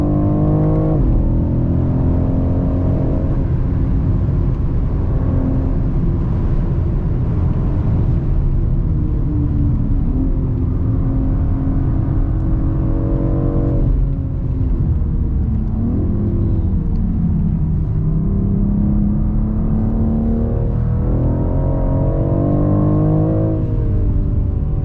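A 2023 BMW X4 M Competition engine revs hard, accelerating out of a corner at the Nurburgring with a loud, continuous roar, pitch climbing through gear changes, close and steady throughout.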